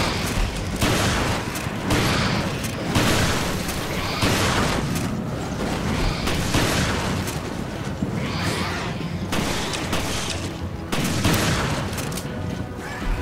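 Shotgun blasts from the video game Resident Evil: Revelations, a rapid run of loud, booming reports about every second, each with a sharp crack and short decay, with no talk over them.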